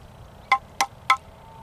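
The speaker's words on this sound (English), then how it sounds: "That's the sound of good seasoned firewood." Three sharp, hollow knocks, about a third of a second apart, come from striking pieces of dry, cracked seasoned firewood together, sounding close and clear over faint background hiss.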